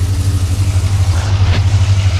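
A Dodge stage 2 318 V8 running nearby, a steady low throbbing idle with an even pulsing rhythm, loud and alone without talk.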